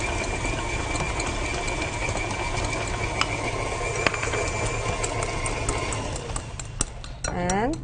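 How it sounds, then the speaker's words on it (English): Electric mixer whisking eggs to stiff meringue-like peaks for a Queen of Sheba chocolate cake, a continuous close whirring hum with faint ticking, and a voice speaking over it near the end. "You can stop whisking."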